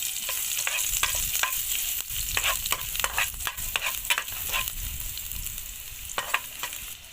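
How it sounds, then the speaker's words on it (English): Garlic frying in hot oil in a countryside kitchen, preparing a sour soup with small fish and tamarind leaves, gives a steady close sizzle broken by repeated sharp scrapes of stirring, with no talk. "First we add oil, this oil. First we add garlic."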